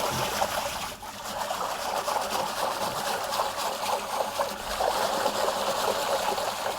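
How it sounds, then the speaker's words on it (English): Pizza dough mixture with honey being whisked briskly in a bowl, a steady close sloshing, trickling swish that runs without pause for several seconds, with no talking over it. "before I add the other ingredients, is to whisk briskly whisk. So I'm going to do that now."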